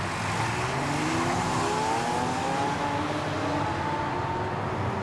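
Luxury supercars in a street convoy in Dubai roar continuously as their engines rev, loud and close, with rising and falling engine pitch and no voices.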